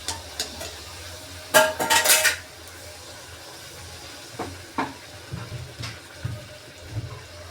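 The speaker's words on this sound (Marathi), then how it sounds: "आपण अशाच सगळ्या पुऱ्या तळून घेणार आहोत." Spinach puris are cooked in a kitchen, with utensils clattering sharply against a pot or pan in a loud burst of scraping and clinks. Softer taps and knocks follow over a faint bubbling of hot oil, with no talking.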